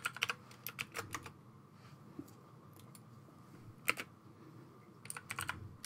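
Someone types a password on a computer keyboard, producing quiet, sparse key clicks in short bursts with gaps between them over a faint background hum.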